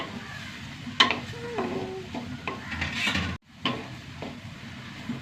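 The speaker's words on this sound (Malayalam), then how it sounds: "അതിലേക്ക് ഒരു തക്കാളി ഇട്ടാ. തക്കാളിയും കൂടി വഴണ്ട് വരട്ടെ." Tomato sautéing with bitter gourd in a pan, with a soft sizzle under scraping and clinking of a utensil stirring against the pan in short bursts.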